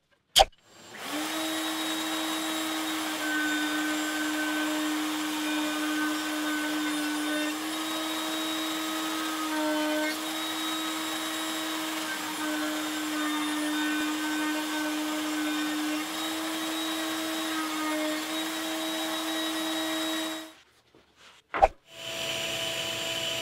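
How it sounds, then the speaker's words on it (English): A woodworking router cuts a roundover along the wooden face of a hat rack, holding a steady, loud motor whine for about twenty seconds before it winds down, followed by a couple of brief clicks. "we're going to do a roundover on the face here just to soften it up a little bit"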